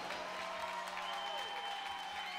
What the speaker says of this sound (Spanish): Aplauda más fuerte,